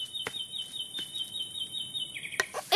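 Cartoon bird chirping in a children's animation, a thin high whistling tone held then wavering, with a few quick sharp chirps and clicks toward the end, fairly faint against a quiet background.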